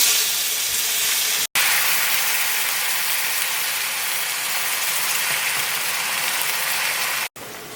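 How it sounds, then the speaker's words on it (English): A hot pan on a wood cookstove is deglazed with watermelon mead, producing a loud, steady, close sizzling hiss that runs unbroken except for two brief cuts. "But this is going to deglaze the pan lovely."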